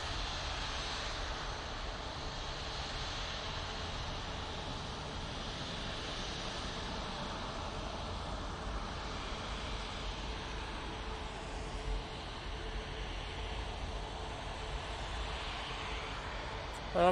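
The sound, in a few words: Virgin Atlantic airliner departing Manchester Airport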